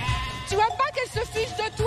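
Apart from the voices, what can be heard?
sheep (ewes) bleating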